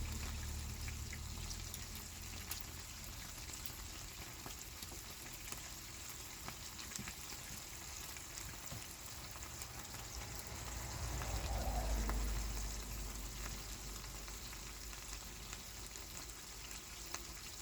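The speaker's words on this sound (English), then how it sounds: "I am cooking it on low because I don't want it splattering any more than it's already splattering" Food sizzles and splatters gently in a pan over low heat, a faint continuous crackle with a brief swell of bubbling near the end, no voices.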